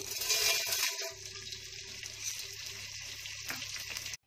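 Edible gum (gond) frying and puffing in hot ghee for winter methi laddu, a steady close sizzle running throughout with brief stirring knocks and a short drop partway.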